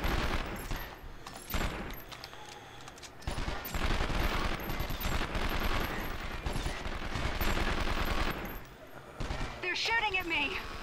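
Bursts of gunfire rattle through a shootout in 24: The Game on PlayStation 2, repeated rapid volleys with short pauses between them, with a voice talking over parts of the action.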